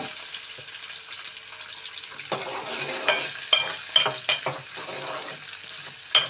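Eggplant pieces fry in a tablespoon of oil in a pot, a low continuous sizzle that grows busier midway as a spatula scrapes and clinks several times against the pan; close, moderately quiet, no one speaking.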